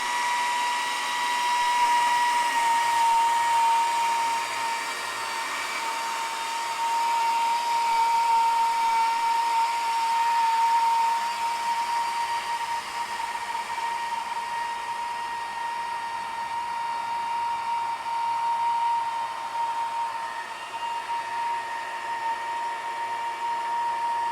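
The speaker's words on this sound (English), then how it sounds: "We're doing a 1 inch board now. So we'll hit the safety button, start the motor, and then start the feed motor as well." A Logosol sawmill runs its main and feed motors while cutting a 1 inch board, giving a steady, loud high-pitched whine with a constant tone that holds for the whole stretch with little variation.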